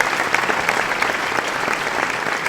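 An audience at a game awards show claps steadily, a dense, even patter of many hands throughout, with no talking.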